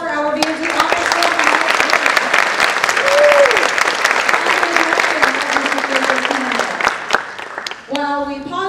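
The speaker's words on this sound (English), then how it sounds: "Can we get another round of applause for our VMT officer?" Audience applauds at a Christmas concert, steady and loud dense clapping filling the clip, with cheers and a voice briefly rising over it before a speaker resumes at the end.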